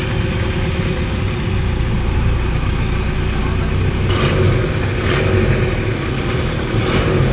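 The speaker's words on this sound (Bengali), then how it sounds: "এই যে আমাদের বোট।" A long-tail boat engine idles at Phi Phi Island, a steady loud mechanical drone with low rumble throughout, joined by brief higher whines and splashy bursts near the end.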